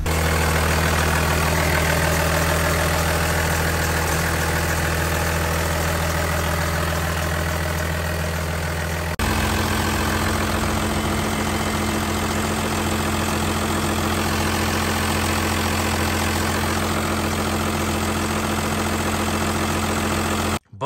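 A first-generation Cummins diesel truck engine idles steadily after starting, a loud, continuous low rumble with a knocking diesel clatter and a steady hum, running alone without voices.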